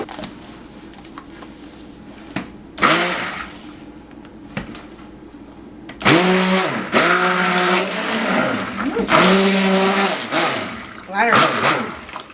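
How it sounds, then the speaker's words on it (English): A stick blender whirs in bursts through soap batter of coconut milk powder, colloidal oats and kaolin clay for cold process soap, its pitch rising and falling with each pulse, close and loud, with a voice speaking between bursts. "I'm going to use my stick blender and blend these"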